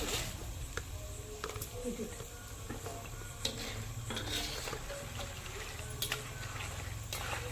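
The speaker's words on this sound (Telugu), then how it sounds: "కదా చక్కగా వేగినాయండి తీస్తున్నాం చూడండి" Chekkalu, rice crackers, frying in hot oil for Sankranti, with a steady bubbling sizzle and occasional metallic clinks and scrapes as they are lifted out. A voice talks over the cooking noise.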